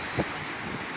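A strong, cold wind blows through Batumi, a constant close rushing roar with one short buffeting gust near the start, and no one speaking.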